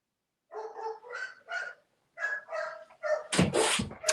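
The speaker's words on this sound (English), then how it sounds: "I also apologize. I have several dogs. I have 3 of them." Several household dogs bark and whine in quick bursts indoors, the calls coming in uneven clusters before a louder, rougher outburst near the end.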